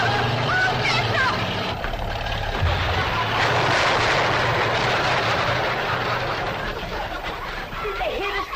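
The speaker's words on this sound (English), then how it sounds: "headed right for the cabin in that old truck" An old truck in a rural cabin setting roars closer and crashes into a chicken house, a loud rough engine rumble rising and swelling with a burst of clatter, while voices shout over it.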